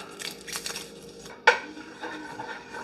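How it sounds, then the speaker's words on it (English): A knife chops a regular sweet onion on a board, giving a few soft close cuts and one sharper knock partway through, fairly quiet and with no voices. "I want to chop up some carrots and celery"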